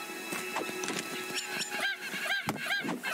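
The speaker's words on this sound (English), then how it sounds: "Come here, chicken!" Chicken in the Craftopia video game giving several short honking, clucking calls in a quick irregular series, heard over a steady game background with faint music-like tones.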